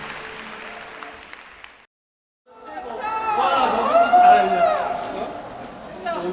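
Hands clap in applause after a 12-year-old girl's viola performance, a short burst then a pause before fuller clapping resumes, mixed with excited voices and chatter.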